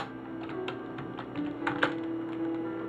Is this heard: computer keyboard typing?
yes